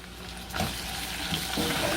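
Chopped garlic hits a pan of frying bacon for Christmas farofa, giving a steady close sizzle with brief louder crackling bursts as it lands and gets stirred.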